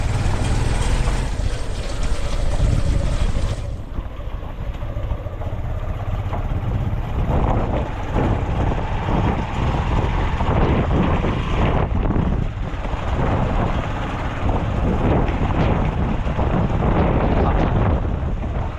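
Strong wind buffets the microphone in a constant rumbling roar, with gusts swelling and easing throughout.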